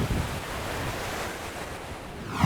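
Ocean surf washes steadily onto Dicky Beach at Caloundra on the Sunshine Coast, a continuous broadband roar of breaking waves with some wind buffeting the microphone, heard alone and close.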